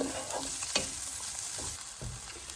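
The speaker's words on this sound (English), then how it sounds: "So I just want to brown these up and soften them." Onions browning in a frying pan for wild spring greens, a steady close sizzle with occasional soft knocks and stirring scrapes over a constant hiss.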